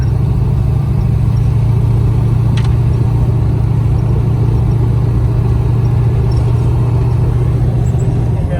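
A 1931 Plymouth P4 street rod driving, its engine humming steadily and loud with a smooth, mild transmission shift and road rumble, no voices heard.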